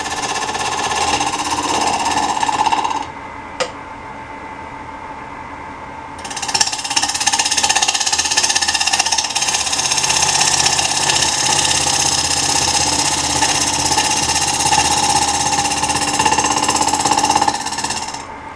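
A wood lathe turns a bowl while a 3/4 inch bowl gouge cuts, producing a loud continuous buzzing whir that cuts out briefly and then resumes steadily, with no voices.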